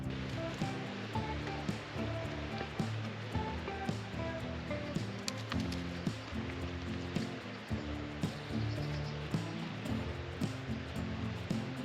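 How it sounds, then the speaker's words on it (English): A river flows beside an overgrown countryside footpath on a hike near Windermere, its steady rushing and burbling water continuous throughout, with faint clicks and rustles from someone walking. "I love the sound of a river"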